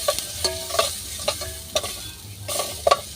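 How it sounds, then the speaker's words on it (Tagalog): Chicken stew burning in a pot, sizzling and frying loudly with repeated stirring scrapes and clicks through the pot. "Parang masusunog na pati kaldero."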